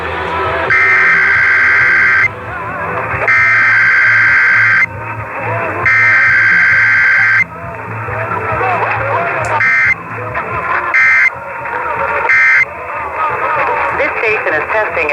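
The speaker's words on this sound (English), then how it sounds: "The following is a test of the emergency alert system." Emergency Alert System attention tones for a required weekly test broadcast on AM radio: loud steady two-tone bursts repeated several times, switching on and off, with digital data-burst chirps between them and an announcer talking over parts.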